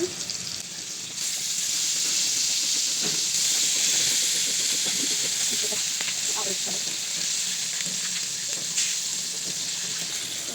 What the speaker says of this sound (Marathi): आपली मच्छी जी फ्राय करायला ठेवलेली आहे ती सुद्धा तव्यात घेते टाकून